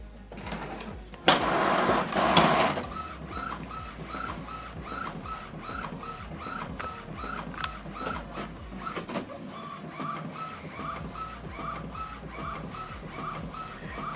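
An Epson WF-3820DWF all-in-one printer prints a ruled line alignment sheet, starting with a loud whirring feed burst and settling into a steady, regular mechanical chatter of the print head moving back and forth.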